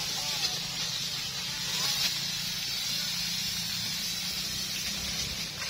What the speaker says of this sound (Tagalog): Bibidyohan ko lang ngayong pag-i-spray namin ngayong umaga.